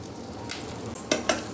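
Gobindobhog rice stirred into caramelized sugar in a pan, a soft sizzle with two or three short scraping stirs near the end, close and without speech.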